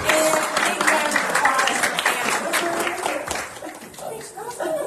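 Applause from a crowd, steady clapping with some laughter and scattered voices mixed in.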